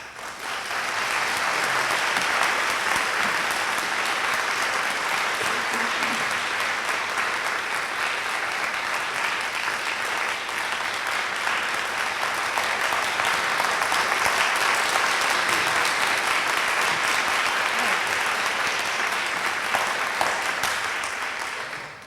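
An audience at a university lecture applauds steadily to welcome Amnesty International's Irene Khan before her talk on poverty and human rights. The clapping is dense and even, holding at a constant level for about twenty seconds before tapering off.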